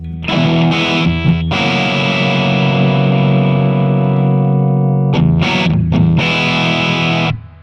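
Loud, heavily distorted electric guitar chords through a JTM amp at its stock bright setting ring out with sustained, bright overdrive, pausing briefly and restriking several times before cutting off.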